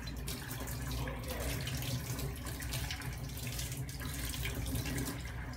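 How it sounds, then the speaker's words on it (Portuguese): Steady running water from a sink tap, used to wet a laryngoscope blade during cleaning, a continuous broad hiss that stays even and close with no other sounds over it. "abro aqui a torneira,"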